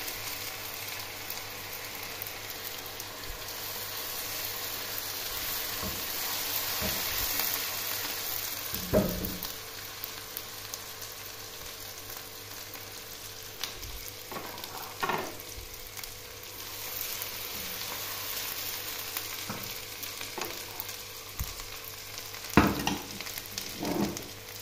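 Tomatoes frying with garlic-ginger paste, a soft continuous sizzle punctuated by occasional sharp stirring clanks and scrapes, close and moderately quiet, with no talking.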